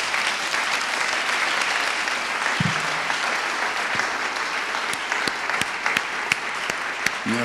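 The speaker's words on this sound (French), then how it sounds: "en vous applaudissant" A conference audience applauds at a wine festival talk, a thick, steady roar of many hands clapping that stays loud and continuous, with a few sharper claps standing out near the end.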